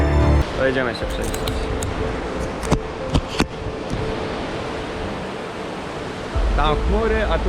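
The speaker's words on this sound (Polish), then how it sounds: "wodospady podziemne gromadzące się w polu lawowym i wypływające ze zbocza doliny rzeki Hvita w postaci szerokich na kilkaset metrów pięknych malowniczych kaskad" Hraunfossar waterfalls in Iceland pour from a lava field down the Hvita river valley as wide cascades, giving a steady, close rushing roar. Voices speak at the start and end, and a few clicks sound in between.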